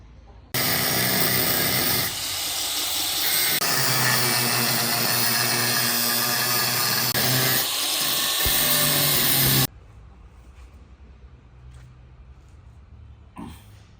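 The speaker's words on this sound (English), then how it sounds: "we're going to cut this way, give it a few half cuts, and bend it" A power tool cuts slits into a Ford gear shifter in a workshop, a loud, steady high-pitched grinding whine for about nine seconds, then stopping and leaving faint workshop ambience.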